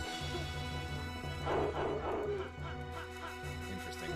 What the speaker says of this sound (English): Why does it have a bark? Sounds like a dog.